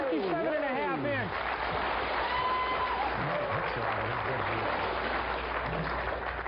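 Applause for an angler at a fishing event, a dense continuous wash of clapping from a crowd, steady and fairly loud throughout with some whistling and voices mixed in.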